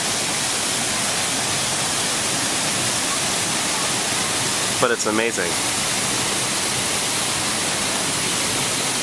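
La Fortuna Waterfall in Costa Rica roars as a steady, loud broadband rush of falling water that fills the whole scene, with a brief spoken remark rising above it midway.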